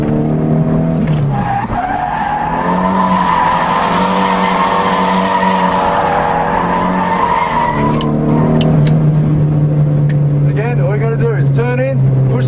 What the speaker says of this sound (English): Clutch down, pull the handbrake.